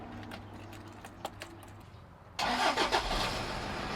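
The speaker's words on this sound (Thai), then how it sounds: "เดี๋ยวติดเครื่องให้เบิ้งน้ำเลยครับ" A 2005 Toyota Hilux Vigo pickup engine cranks and catches abruptly, settling into a loud, steady idle with a few revs, after quiet background ticking.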